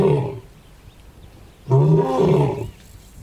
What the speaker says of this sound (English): Lions roar in the distance, their calls carrying across the cooling air.